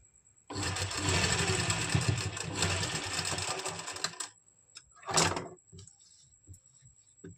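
A sewing machine stitches a folded bias strip along the back neck of a kameez, a steady motor whir running for about four seconds, then stopping, followed by one short burst of stitching.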